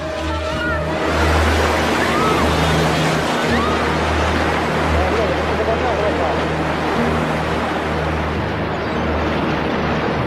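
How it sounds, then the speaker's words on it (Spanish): Tsunami waves surge in a continuous, loud rushing roar of churning water that stays heavy and unbroken from start to finish. "Es una sucesión de olas que seguirán llegando durante muchas horas"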